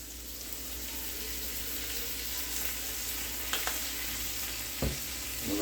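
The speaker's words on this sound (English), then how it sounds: "So as we got this going for a couple of minutes, I'm putting some garlic in." Garlic frying with mushrooms and butter in a pan for chicken marsala, a steady soft sizzle with a few light stirring scrapes near the end, heard alone without talk.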